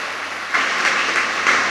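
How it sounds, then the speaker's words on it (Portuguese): A church congregation claps together in a steady, moderately loud wash of applause that swells slightly after the first half second. "Você pode aplaudir ao Senhor?"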